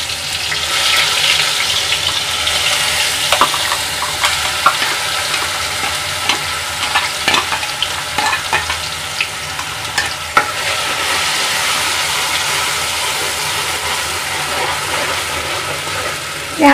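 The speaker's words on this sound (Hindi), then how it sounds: "प्याज अदरक लहसुन की पेस्ट को अच्छे से भूनेंगे ताकि प्याज कच्चा ना हो।" Onion, ginger and garlic paste sizzles and fries steadily in a hot pan, with a continuous hiss and occasional scraping and stirring clatters throughout.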